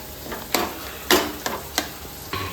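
Kappa (tapioca) biryani is stirred in a cooking pot, with a spoon scraping and knocking against the metal in a few sharp, irregular strokes over a faint, steady background hiss.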